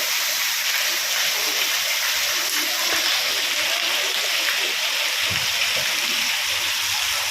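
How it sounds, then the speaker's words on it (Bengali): Sudden heavy rain falls outside after a hot day, making a dense, unbroken hiss of drops that stays loud and even throughout. "বাইরে বৃষ্টি হচ্ছে"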